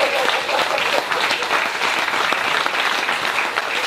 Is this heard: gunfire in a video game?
no